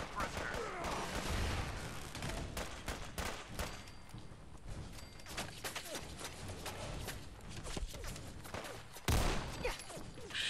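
Bursts of rapid gunfire and scattered shots crackle through a firefight in the Fallout 4 video game, mixed with footsteps and game sounds, with a voice talking in places.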